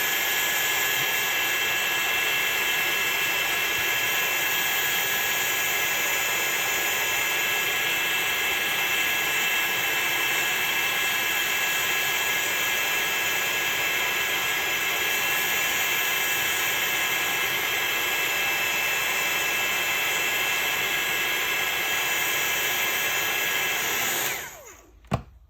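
A heat tool blows a constant loud, hissing whoosh while melting clear embossing powder. It runs close and unbroken for about 24 seconds, then switches off with a faint click.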